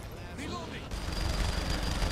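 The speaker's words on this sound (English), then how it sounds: "He's shooting at someone else" Gunfire in the open-world game Saints Row: The Third, a busy spray of shots and bursts against steady background noise, with voices mixed in.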